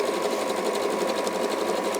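A sewing machine runs steadily, stitching a lock stitch in a continuous, even whirr that holds at the same moderate level throughout, with no talking.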